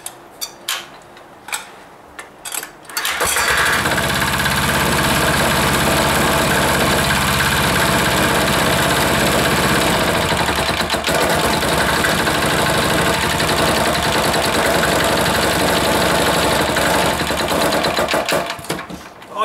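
An air-cooled diesel engine starts after a few faint knocks, then runs loudly and steadily at idle with a close, rhythmic ticking clatter that continues until the end.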